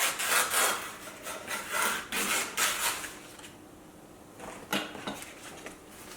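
A hard, crunchy nian gao rice cake is cut with a knife, giving a run of close rasping crunches in uneven strokes, a short quiet pause, then a few more scraping cuts.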